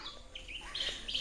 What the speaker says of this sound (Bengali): ফিঙে পাখি, ফিঙে।